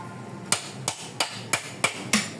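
Hammer blows as a child, a cousin's son, dismantles something at home, six sharp strikes at a steady rhythm, each close and fairly loud over a faint background.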